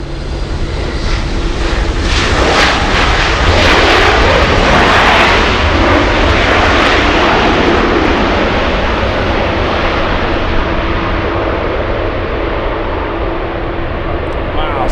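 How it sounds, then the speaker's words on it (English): A United Airlines Boeing 757 jet takes off at LAX with a loud, sustained engine roar that swells and then slowly eases, close and dominant, with a voice faintly under it. "Let's go for the United Airlines 757."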